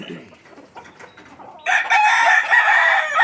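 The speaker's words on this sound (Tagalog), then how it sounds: "Kahit ganito lang ang manok namin ni Paring Lino Valencia." A rooster crows loudly and close by in one long, drawn-out call, following a quieter stretch of soft background noise.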